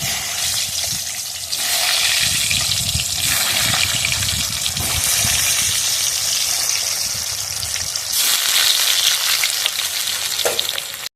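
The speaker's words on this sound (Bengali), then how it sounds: "এবার আমি দিয়ে দেবো সিদ্ধ করে রাখা আলুটা, ভেজে নেব, তেলের মধ্যে দিয়ে দেবো" Boiled potatoes fry in hot oil for a village-style egg biryani, a loud steady sizzle running throughout with scraping and stirring bursts and a brief louder crackle near the end.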